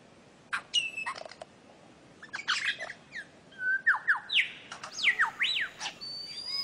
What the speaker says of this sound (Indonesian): Berikut ini adalah salah satu burung endemik Papua yang kerap memikat wisatawan.